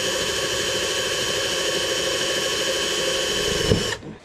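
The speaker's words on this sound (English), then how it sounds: "I went ahead and drilled the hole" A power drill runs at a steady high whine while boring a hole for a Camaro SS tail light cable. The tone holds close and constant for several seconds, then a brief bump as the bit breaks through before the motor cuts off.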